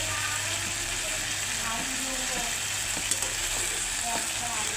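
Spices being stirred with salt in a pan for a thin Bengali fish curry, giving a steady soft sizzle with scraping and clinks from the spoon, mid-distance and continuous, with a low hum underneath.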